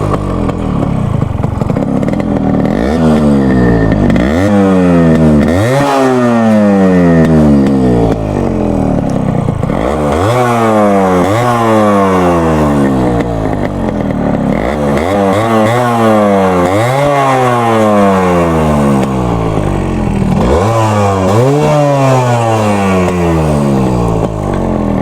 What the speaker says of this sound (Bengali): তো আপনাদেরকে বাইকের সাউন্ডটা একটু শোনাই